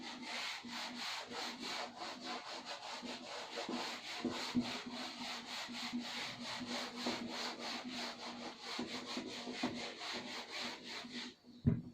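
Writing is rubbed off a board with a duster in fast back-and-forth strokes, a steady scratchy swishing close by that continues for about eleven seconds before stopping with a small knock.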